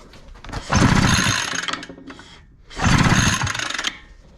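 Pull-starting the gas engine of a leaf blower, two loud rasping recoil pulls about two seconds apart, each a burst of sputtering engine cranking that dies away.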